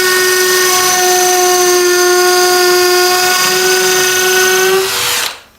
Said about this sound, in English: I'll drill the hole, we'll give you a demo.